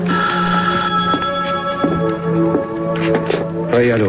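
A telephone rings with a steady electronic tone that repeats in short bursts, fairly close and loud, while other sounds blend in near the end.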